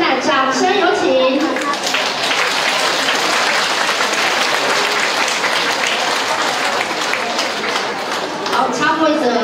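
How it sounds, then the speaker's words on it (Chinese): Audience at a Mother's Day concert applauding a string ensemble, a dense, sustained burst of clapping from a crowd that fades slightly and swells again, with brief voices near the start and end. "现在掌声有请。"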